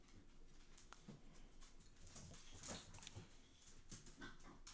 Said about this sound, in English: the dogs make some noise as they're running around